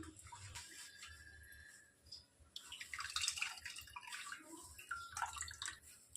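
Quiet splashing and dripping as a paneer-making cloth is pressed, squeezed and swished in a bowl of water, with soft irregular sloshes close by.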